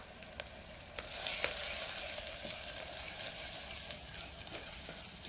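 Turmeric, coriander-cumin powder and dried red chili sizzle quietly in a pan, making a soft, steady crackle and hiss with scattered small pops. There is no talking.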